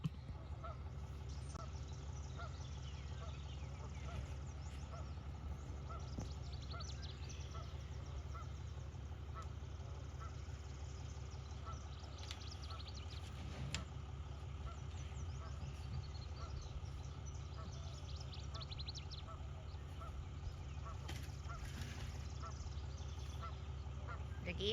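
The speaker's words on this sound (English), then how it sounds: "The geese are not happy." Geese on a farm honk repeatedly in scattered, overlapping calls over a steady low background hum, fairly faint and distant throughout.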